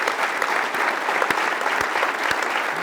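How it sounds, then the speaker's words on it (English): Steady, dense applause from a seated audience thanking a panel of veterans at the end of a talk, continuous and full throughout with individual claps audible within the wash. "I'm clapping for you."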